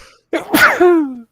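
One close sneeze: a quick inhaled catch followed by an explosive burst that trails into a voiced, falling tail.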